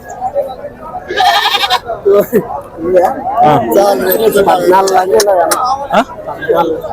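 Several large goats bleat loudly and repeatedly close by at a livestock market in Pebbair, amid a busy crowd of people talking.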